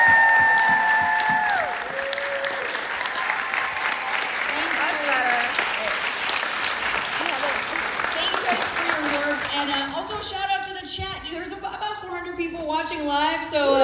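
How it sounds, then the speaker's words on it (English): A live audience at a Portland comedy show breaks into sustained loud applause, dense clapping lasting the whole stretch, with voices and chatter mixing in toward the end. "just a round of applause for Mac and Eric for sharing"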